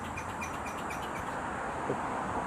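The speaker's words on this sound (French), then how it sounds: "des bruits d'un oiseau. Ah, il est juste là." A bird calls outdoors in a park, with short, faint chirps repeating through the first half over steady broadband background noise.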